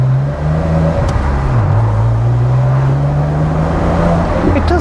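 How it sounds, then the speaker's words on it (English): A Porsche Boxster engine with an aftermarket exhaust drones loudly and close, its deep exhaust note holding a steady low pitch with a brief dip and rise, no voices. "It does sound good. It's got an aftermarket exhaust."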